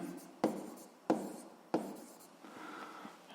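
Pen strokes writing notes for a seventh-grade physics exercise, three crisp close scratches about half a second apart, then softer continuous scribbling.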